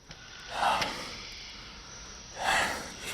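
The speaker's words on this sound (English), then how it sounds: "gasping for each breath." A dying person on a deathbed gasps for breath: two ragged, breathy gasps about two seconds apart, close to the microphone and fairly soft, with quiet stillness between them.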